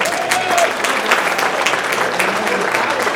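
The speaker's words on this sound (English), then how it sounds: "Can you give yourselves a round of applause?" An audience at an education forum applauds, a dense, sustained wash of clapping from many hands filling the room at fairly close range.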